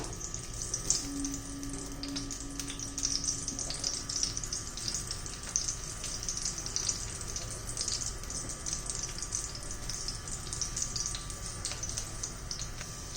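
Crushed garlic cloves sauté in hot oil, a steady faint hissing sizzle with fine crackles running evenly throughout, close by and without talk.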